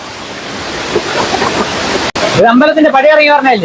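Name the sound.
Meenmutty waterfall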